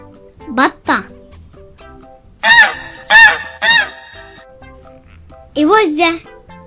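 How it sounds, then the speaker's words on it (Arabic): Goose honking in a farm-animal sequence, three loud bursts of harsh honks in a row, with short spoken words before and after. "إوزة،"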